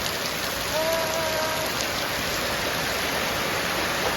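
Rain pouring on a house with a damaged roof, water leaking inside as a dense, steady hiss of falling and running water, loud and unbroken throughout.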